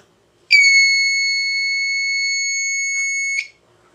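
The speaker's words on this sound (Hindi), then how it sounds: "जब भी ये मनी बैग अलग हो जाएगा तो साउंड करेगा।" Homemade money bag detector circuit sounding its alarm: one steady, piercing electronic tone lasting about three seconds, close and loud, then cutting off into silence.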